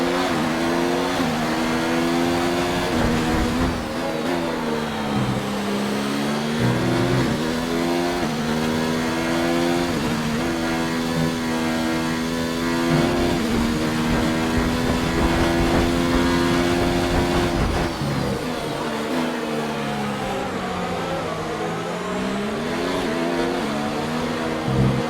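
A Mercedes AMG Formula 1 car from the F1 2019 game drones loudly and steadily, its engine pitch climbing and dropping with gear changes as it runs at racing speed around the Spain circuit.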